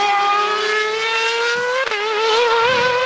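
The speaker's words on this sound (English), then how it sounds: "Braking into a little bit of wheel spin at the exit." A race car engine drones at a high pitch at Bathurst, with a sharp dip as the car brakes into the last corner, then rises again while the tyres briefly spin on exit, close and loud.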